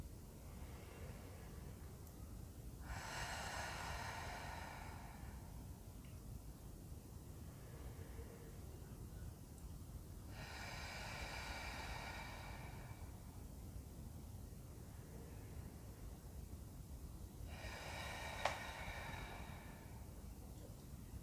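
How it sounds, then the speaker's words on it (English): Three slow cleansing breaths closing a beginners yoga session, each a soft airy rush spaced several seconds apart over a steady low background hiss, close and fairly quiet. "Closing today's practice with 3 cleansing breaths, in through the nose, side out through the mouth."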